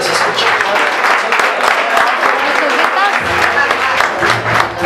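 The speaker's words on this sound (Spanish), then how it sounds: "El aplauso maravilloso para ella que se escucha" Guests clapping for a girl at her fifteenth birthday party with a mariachi group, a broad ragged wash of applause running throughout, with low tones and voices mixed in underneath.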